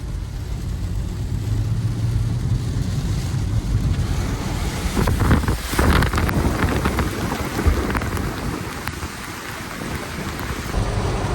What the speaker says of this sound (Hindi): भाई इतनी तेज बारिश हो रही है